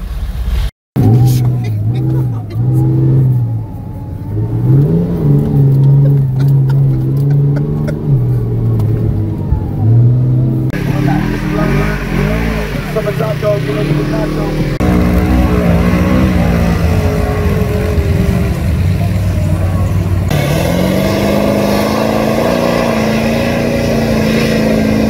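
Several mud trucks at a mud bogging meet idle and rev their loud engines up close, a continuous throbbing rumble with rising and falling revs throughout.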